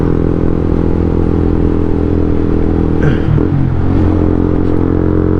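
Akrapovic M1 exhaust muffler on a 2017 Honda CBR150R, a loud steady idle drone with a deep even hum and a brief clattery wobble midway, close up with no voices.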